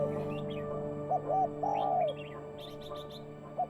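A few short, bright red-whiskered bulbul chirps and warbling notes over a steady background hum, with a quick run of high tweets near the end.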